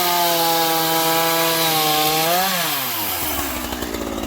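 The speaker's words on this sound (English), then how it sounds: "We're going to cut it down. Got the chainsaw." A chainsaw cuts into a wooden playset during junk removal, its engine whining in a loud, steady drone, then pitching down as the chain bites into the wood. The sound stays close and continuous, with no voices.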